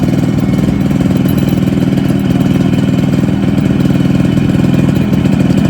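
A Yamaha RX100 motorcycle engine runs steadily while off-roading on a rough hilly track, a loud, close, continuous buzzing drone with slight throttle changes and no speech.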